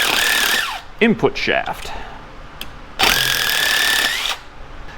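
An impact gun zipping bolts off the engine plate of a Honda TRX450R quad, two loud sustained whirring bursts close by, with someone talking between them.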